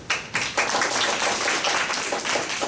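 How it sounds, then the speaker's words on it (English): Applause for a group of students after a classroom presentation, a short burst of close, brisk clapping from a small audience, steady and fairly loud. "More applause for them."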